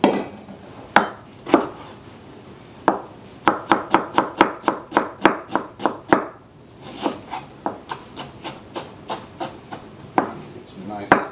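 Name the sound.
knife chopping radicchio on a cutting board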